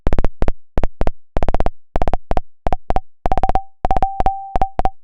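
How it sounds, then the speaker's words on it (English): Rapid bursts of short, percussive hits from a high-resonance Phaser+ in Bitwig with a resonant, pitched ring, played in rhythmic clusters; later hits sustain into a brief whistling tone. "I can start bringing the resonance up until we start getting a percussive sound"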